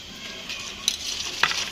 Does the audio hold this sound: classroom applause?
no